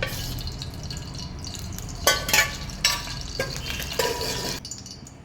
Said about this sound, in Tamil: இப்போ நம்ம 2 கரண்டி எண்ணெய் ஊற்றணும்